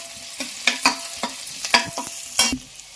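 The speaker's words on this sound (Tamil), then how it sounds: "2 பட்டை, 2 கிராம்பு, இந்த ஸ்டார் இதையும் இதோட போட்டு கொஞ்சம் நேரம் ஃப்ரை பண்ணலாம்." Cinnamon sticks, cloves and star anise frying in a pan as a spoon scrapes and stirs in quick repeated strokes over a soft sizzle, close up with no talking.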